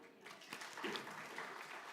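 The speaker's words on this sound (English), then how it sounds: "So I would like you to have a round of applause for" Audience applause for a group of women at a community celebration event, a continuous patter of many hands clapping, moderately near and even in level, with no talk over it.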